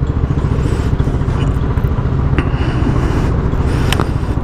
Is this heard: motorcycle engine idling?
yes